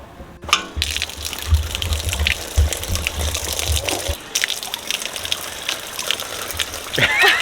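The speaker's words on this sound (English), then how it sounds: "check out the water" Water flows and gushes at a public spot on a day trip in Monaco, a continuous splashing rush with low rumbling surges, heard nearby with brief faint voices in the background.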